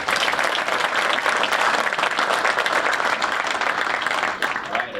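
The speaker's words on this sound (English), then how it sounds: "And another round of applause for all." Loud, sustained crowd applause at an 11th Wing military change of command ceremony in 2025, a large audience clapping densely and evenly before it begins to thin near the end.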